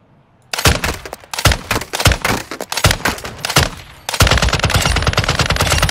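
RAAL MG machine gun firing in Call of Duty DMZ, loud rapid bursts of heavy gunfire with short pauses between, ending in a long sustained stream of shots.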